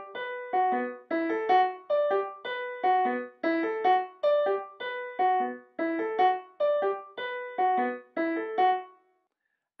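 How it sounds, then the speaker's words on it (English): An angular, disjunct one-bar ostinato from minimalist music repeats about ten times in a steady rhythm, with clear pitched notes leaping widely up and down, played alone and ending in silence. "This ostinato is a one-bar pattern and it's very angular and disjunct."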